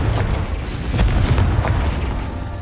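A Confringo blasting spell from the Hogwarts video game erupts in a loud, deep boom, followed by rumbling bursts that stay close and heavy with no talking over them.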